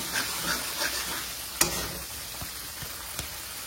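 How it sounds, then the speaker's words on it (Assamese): Masala spice paste fries in oil for a matar paneer, giving a steady soft crackle and sizzle with a few sharp ticks of a stirring spoon, close and moderately quiet. "একদম ধুনীয়াকৈ ফ্ৰাই কৰি আছোঁ।"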